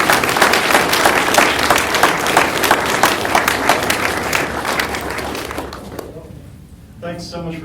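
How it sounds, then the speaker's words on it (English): A dense, steady wave of audience applause after a talk honoring Dr. Sturm and Charlie Dane, loud and sustained for about six seconds before fading as a voice starts speaking at the end. "let's have another round of applause both for Dr. Sturm and for Charlie Dane"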